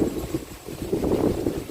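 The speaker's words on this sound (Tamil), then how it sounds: "நம்ம வீட்டை சுற்றி நல்லா காற்றடிச்சு உள்ளே இருக்கவே முடியல" Strong wind gusts around a house surrounded by trees, a low rumbling buffet that rises and falls continuously, heavy against the microphone.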